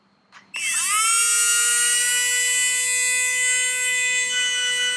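Tamiya Mini 4WD motor running during break-in, whining loudly at a high, steady pitch after a brief click at startup, a sustained electric buzz heard alone.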